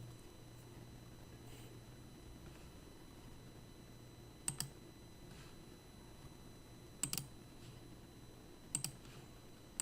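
Keyboard keys tapped while a command is copied and pasted on a computer during a Kubernetes Istio setup, heard as three short quiet bursts of clicks spaced a few seconds apart over a faint steady hum.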